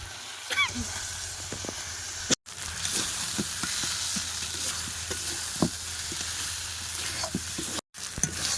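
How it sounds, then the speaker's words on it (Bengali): Fried fish pieces going into mustard masala in a pan, with steady sizzling and frying hiss, stirring scrapes and a few soft clinks throughout, plus brief quiet dropouts. "মশলাটা কিন্তু খুব ভালোভাবে কষাই হয়ে গেছে তো এবারে ভেজে রাখা মাছগুলো দিয়ে দেবো"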